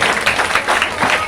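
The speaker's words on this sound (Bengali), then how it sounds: "কি একটু হাততালি হবে?" Audience applause at a children's storytelling gathering: steady, dense clapping fills the whole short stretch at moderate loudness, without pauses or voices standing out.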